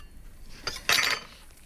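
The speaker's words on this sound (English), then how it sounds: "I've got a couple of slices cut from a bloomer here, which I am now just cutting into chunky cubes" Knife slicing through slices of bloomer bread, cutting them into chunky cubes on a board, with a couple of brief crunchy cuts, the second louder and longer, close by.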